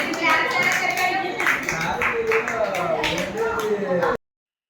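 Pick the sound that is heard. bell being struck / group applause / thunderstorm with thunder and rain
group applause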